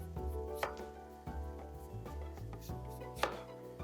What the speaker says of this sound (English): You can just go with your knife all the way down.